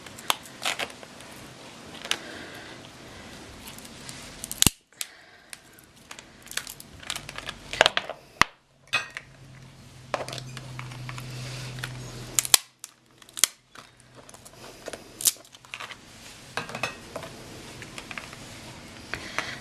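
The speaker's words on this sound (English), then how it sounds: "So if you have strong scissors, that would be great. You could just like cut the shell open." Strong kitchen scissors cut through a steamed crab's shell, making a series of sharp snips, cracks and crunches, irregular and close, with brief quiet gaps between.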